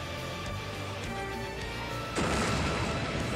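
Gunfire rings out in the turn-based video game Code Name S.T.E.A.M., with a steady mechanical rumble that gives way to a sudden, louder burst of shooting near the end.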